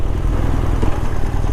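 A vehicle with a loud exhaust rumbles steadily and close by, a deep, continuous engine drone with no talking.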